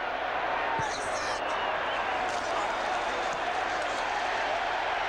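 A stadium crowd roars at a 1992 Monday night NFL game between the Dallas Cowboys and Philadelphia Eagles, a steady, dense wash of cheering that holds at full strength for the whole stretch, with a commentator's voice likely underneath.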